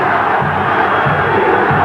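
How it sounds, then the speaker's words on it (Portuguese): Football stadium crowd at a 2005 Copa do Brasil match between Sampaio Corrêa and Corinthians, a dense continuous roar of shouting and jeering aimed at the referee, loud and unbroken. "E a torcida fica ali pressionando o juiz."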